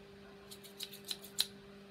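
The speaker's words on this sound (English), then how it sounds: "And what scissors are we going to use?" Fashion Accents USA scissors handled during a craft project, giving several faint, crisp metallic clicks and snips in quick succession over a quiet room with a steady low hum.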